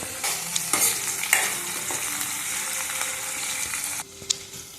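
Onions, tomatoes and green chilies fry in a pan, a steady broadband sizzle with scattered clicks and scrapes of stirring, close and fairly loud, easing slightly near the end.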